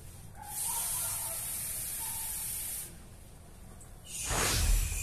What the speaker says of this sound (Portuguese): Eu vou colocar mais um pouquinho de água.